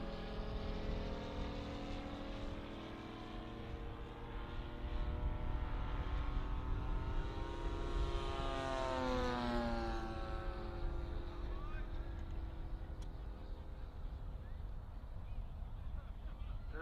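A model Stearman biplane comes in to land at an airshow, its engine buzzing steadily with rising and falling harmonic whine as it passes nearby, then easing off in the final seconds.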